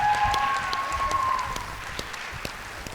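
Dense, steady audience applause fills a school hall during a student stage production of Charlie and the Chocolate Factory in Lahore. The clapping is loud and continuous, with a sustained tone and scattered voices mixed in.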